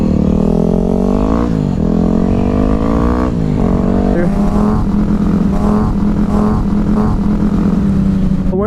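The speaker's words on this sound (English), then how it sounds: "We're in some mad traffic." Heavy 5 o'clock traffic of cars and motorcycles: engines idle, rev and accelerate nearby in a loud, continuous roar, with motorbike whines rising and falling over a steady low rumble.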